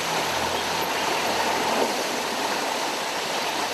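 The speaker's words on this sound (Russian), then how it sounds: "Река в этих местах глубокая, здесь сильное течение." Deep river with a strong current in the mountains of Tibet, heard as a loud, steady broadband rush of flowing water that stays constant for the whole stretch, with no voices.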